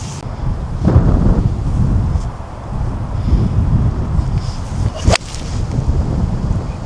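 Wind buffeting a microphone on a golf course, a steady low roar with gusty swells and one sharp crackling burst.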